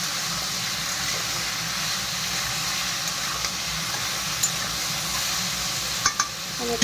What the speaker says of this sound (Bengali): এখন এটা ভালো করে লবণ হলদি দিয়ে ভালো করে মিক্স করে নিই